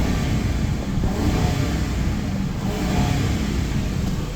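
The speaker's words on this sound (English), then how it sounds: "Let me rev it up." The engine of a 2011 Ford Crown Victoria Police Interceptor with 125,000 miles revs, a loud, close, rough roar that swells and holds for a few seconds with no talk.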